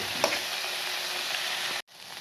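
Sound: paneer and vegetables frying in oil

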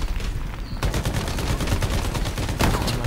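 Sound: gunfire in the video game Shatterline

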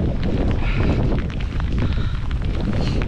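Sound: storm wind

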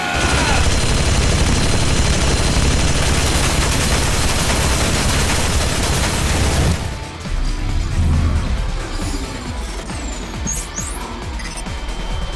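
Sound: gunshot fired at character in AI: The Somnium Files video game

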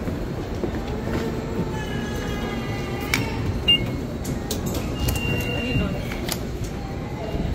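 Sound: metro train in McGill Station, Montreal

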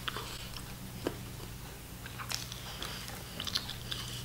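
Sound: biting and chewing an apple

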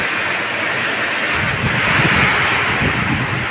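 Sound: strong wind

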